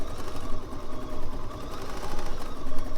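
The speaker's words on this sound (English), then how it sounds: "the machine that you're using to stitch together the pieces is the 770 QE Plus" A Bernina 770 QE Plus sewing machine runs steadily while stitching quilt pieces together for Celtic quilting, a close, continuous whirring hum with a fast stitching rhythm.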